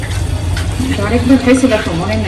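Boiled, ground pointed gourd paste being fried with spices in a pan: a steady soft sizzle and frying crackle with light stirring, while a voice talks over it.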